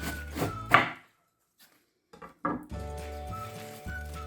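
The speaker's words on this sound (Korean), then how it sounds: "배추는 이렇게 세워 가지고요. 가운데를 이렇게 썰어 주세요." Kitchen knife cutting lengthwise through an upright head of napa cabbage, a few crisp thunks and crunches near and clear, a brief pause, then steady cutting noise with a faint hum underneath.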